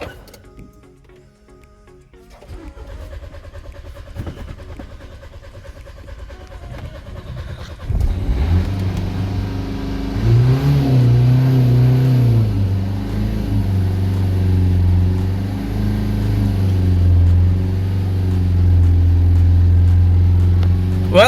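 A 2015 Nissan Juke diesel, just after a fuel filter replacement, cranks and catches, then settles into a loud, steady diesel idle with a slight rev wobble, following quieter handling noises.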